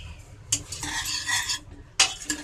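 A utensil scrapes and stirs through soaked lentils in a frying pan, two sharp clatters against the metal over a faint sizzle, close up and without talking.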